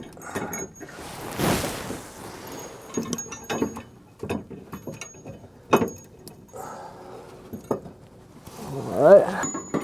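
Metallic clicks, ratcheting and clinks from bolts being threaded into a gooseneck hitch under a 2017-2022 Ford F-350, brief intermittent mechanical sounds close by with quiet gaps.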